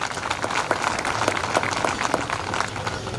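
An audience at a cultural programme claps in sustained, thick applause, loud and even throughout, without talk.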